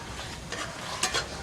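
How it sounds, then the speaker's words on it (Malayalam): A spoon stirs chicken thoran in a frying pan with a soft, continuous scraping and sizzling that builds briefly over a second or so, close and moderately quiet. "ഇത് നന്നായിട്ടൊന്ന് ഇളക്കി കൊടുക്കണം."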